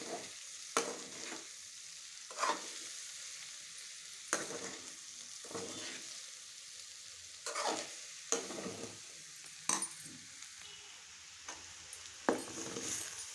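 Carrots frying in a pan give a steady soft sizzle, broken every second or two by scraping stirs of a spoon against the pan, heard close and alone without voices.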